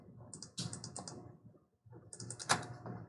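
Quick runs of computer keyboard keystrokes while entering dimensions in CAD drafting software, two bursts of clicky taps with a short gap, close and fairly faint over a low room hum, no talk.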